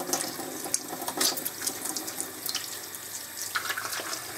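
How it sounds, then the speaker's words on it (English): Water runs from a tap into a sink as hands are washed in soapy water left over from cleaning oil painting brushes, a steady splashing with small irregular spatters, fairly close and without talk. "just going to wash my hands with the same soapy water that I was using to clean the brushes."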